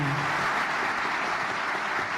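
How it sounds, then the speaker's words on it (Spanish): Audience applause after a road safety panel on safe streets for pedestrians and cyclists, a steady wash of clapping filling the short clip at moderate level, with a brief voice fading out at the very start. "Un aplauso por favor para los panelistas."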